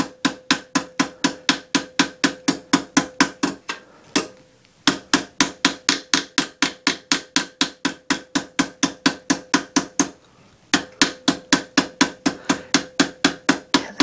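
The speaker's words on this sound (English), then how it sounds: "So I want to hammer just over the edge." A hammer strikes the edge of a metal leaf over a stake in a jewelry foldforming technique. The blows land close and sharp in a fast, even rhythm, with two brief pauses between runs of strikes.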